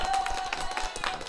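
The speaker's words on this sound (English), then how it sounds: "Oh, I found the applause." A played applause sound effect during a live online coffee-and-headlines show, a brief, steady patter of clapping heard faintly at moderate distance.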